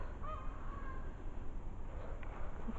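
A peacock gives a short honking call in a palace garden on an evening walk, faint against low outdoor rumble, with a second brief call near the end.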